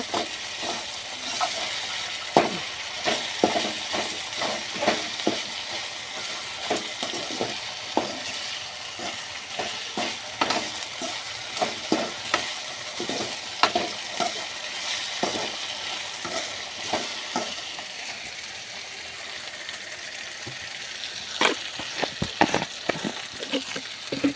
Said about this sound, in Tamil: ஒரு கையில் தான் கிளறிட்டேன் அதனால தான் வடச்சட்டி நவர்ற மாதிரியே இருக்குது